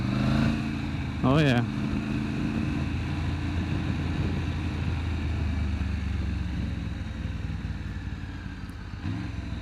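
A 2020 Triumph Tiger 900 engine pulls steadily under acceleration while riding, a continuous drone with a quick shift blip early on; a rider speaks briefly over the engine and wind.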